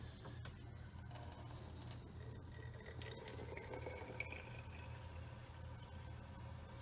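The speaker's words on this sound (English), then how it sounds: "So she's filling it up to the black line and she stopped." Water running steadily from a tap into a container being filled for tie-dye, a continuous soft gush with a low hum beneath and a few faint clicks, fairly quiet and without talk.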